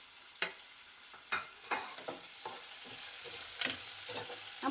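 Garlic, onion and curry leaves crackle in a hot pan, a fairly quiet sizzle punctuated by repeated spatula taps and scrapes as the mixture is stirred.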